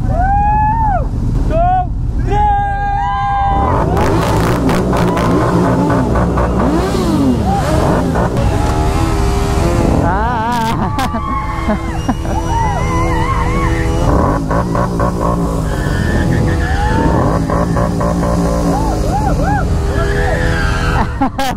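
A Suzuki GSX-R1000 motorcycle at a college auto expo revs hard in loud, rising and falling bursts during a burnout, close and dominant, with voices and crowd noise mixed in.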